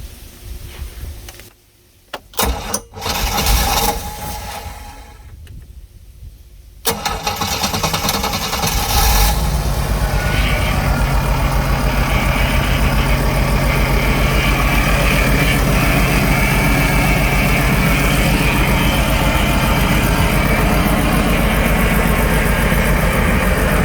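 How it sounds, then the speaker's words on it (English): An OMC Cobra boat engine, just repaired for overheating, cranks a few times in short bursts, then fires up and settles into a loud, steady idle that runs for the rest of the clip. "Let's fire her up and see how she does."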